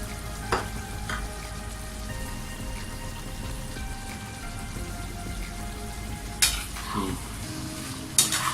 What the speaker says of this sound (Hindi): ये देखिए धनिया को हम मिक्स कर देते हैं।